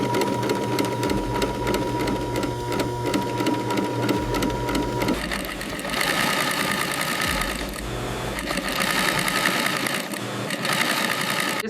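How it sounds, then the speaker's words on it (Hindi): A small sewing machine stitches leather jackets in a leather factory, giving a continuous rapid mechanical chatter up close over a busy workshop hum. "वर्कर छोटी सिलाई मशीन से उस जैकेट की बारीक सिलाई करते हैं।"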